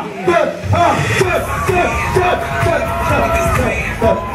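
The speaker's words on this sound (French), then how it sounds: "tu vas jumper, tu vas crier" A club party crowd at a white-and-red themed night at a Club Med resort in Kemer, jumping and shouting. Loud, dense yelling and whooping goes on throughout, with voices of the crowd layered together over a pulsing background.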